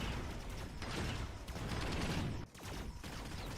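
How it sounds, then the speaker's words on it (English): A rapid-fire cannon fires in a tower-defense video game battle, protecting a shield unit against a Fire Badger, producing a dense, continuous mechanical clatter of shots with a brief dip midway, loud and without talk. "Rapid fire cannon protecting the shield."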